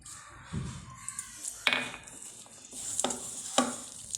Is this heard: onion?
yes